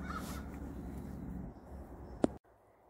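Crows cawing outdoors, a few faint harsh calls over steady background noise, followed by a sharp click and sudden near-silence.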